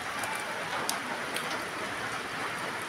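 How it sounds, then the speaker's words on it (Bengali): Steady rain falls beside a village fishing pond, a dense, even hiss of drops with a few sharper taps standing out, continuous and fairly close with no talking. "বৃষ্টি থামেই না, একদমই থামে না"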